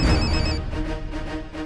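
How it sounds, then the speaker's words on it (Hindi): A telephone rings on a call placed to a grandmother, sounding as a repeating electronic ring tone in short pulses, fairly close and clear with no talking over it. "विक्रम दादी को फोन लगाओ"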